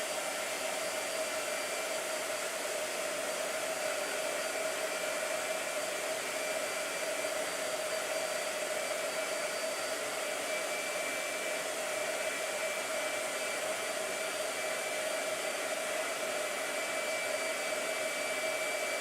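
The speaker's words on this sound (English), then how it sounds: "Blow dryer." A blow dryer runs steadily at close range, a continuous loud whooshing roar with a high whine that holds unchanged throughout, with no talking.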